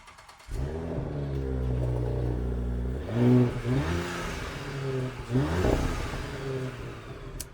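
An Audi S5 with a 3.0-liter supercharged V6 fires up and settles into a loud, steady idle, then gets two sharp revs that rise and fall, heard close with no talking.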